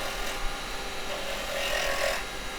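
A carbide detail chisel cleans up a pine tenon on a wood lathe, giving a steady close scraping hiss as the blade meets the spinning wood, with brighter rasping swells partway through.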